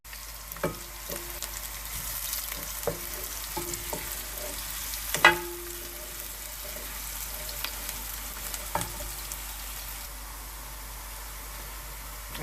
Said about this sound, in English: we're going to dice the chuck steak and we're going to sizzle on oil for a few minutes